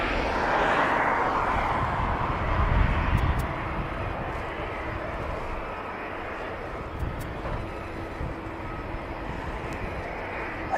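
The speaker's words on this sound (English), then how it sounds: "That aircraft's still going along." A fixed-wing aircraft at East Midlands Airport sounds as a steady, broad engine roar throughout, loud and continuous with a slight swell early on, no talking over it.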